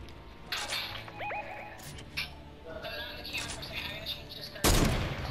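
Gunfire in a Fortnite match rings out in a few sharp bursts and a loud closing crack amid game noise, with people talking in the background.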